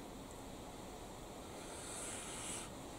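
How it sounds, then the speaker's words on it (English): Wind gusting outdoors in a garden in late summer, a steady broad rushing that swells slightly toward the end, with no voices over it. "That wind's picking up again, can you hear it?"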